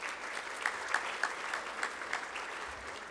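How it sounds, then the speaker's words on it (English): Audience clapping at an opening plenary session of a conference, a moderate, even patter of many hands with a few sharper individual claps standing out, fairly distant and without talk. "But let's give this team a round of applause."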